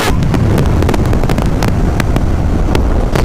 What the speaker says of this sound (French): C'est la première moto électrique que j'essaye.